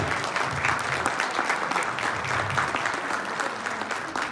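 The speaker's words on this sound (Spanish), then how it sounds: "Fuerte el aplauso también para Mafer." Steady applause from an audience at a forum on women in politics, sustained and dense for the whole stretch with no clear voices over it.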